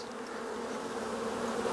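Honey bees buzz at an open hive while frames are moved during a split, a close, steady, dense hum with no talk over it.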